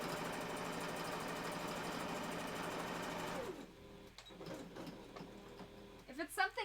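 A sewing machine stitches two fabric pieces together in a loud, fast, steady whir for about three and a half seconds, then stops, leaving quieter handling noises and faint clicks.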